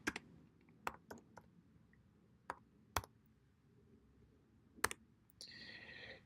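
Item description typed on a computer keyboard, scattered quiet key clicks at an irregular pace, faint and close, with a brief soft rustle at the end.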